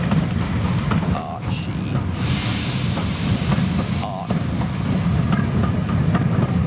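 Ride behind the LBSCR H2 Atlantic steam locomotive Beachy Head, a three-cylinder engine, heard as a steady rumble of carriage wheels and rail noise with wind buffeting, fairly loud and continuous.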